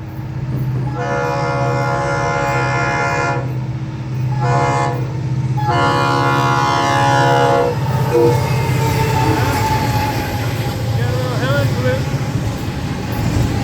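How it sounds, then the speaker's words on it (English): A northbound FEC train rumbles past close by while its horn sounds in several long, blaring blasts, followed by continued rolling noise of the cars. "I'm going to turn as the train goes by"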